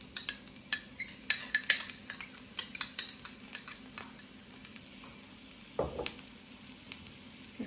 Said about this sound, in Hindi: प्याज को थोड़ा फ्राई करेंगे